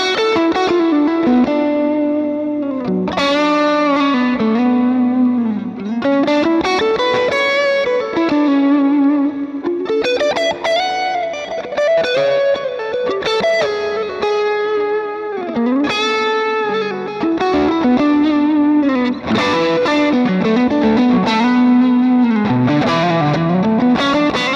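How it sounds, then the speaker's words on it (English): Electric guitar through an Axe-FX 3 modelled VOX AC30 amp patch, played softly at low guitar volume, with chords and picked lines ringing continuously with light chorus and reverb, no voice. "this is scene number 1 on my VOX AC30 patch"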